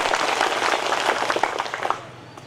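Audience applause at an Eid gift distribution event, a steady dense patter of many hands clapping that fades out toward the end.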